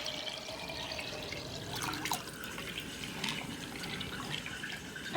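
Water drains from an upturned jar of sprouting wheat berries, a continuous soft trickle and splash with scattered drips, faint and close, with no voices.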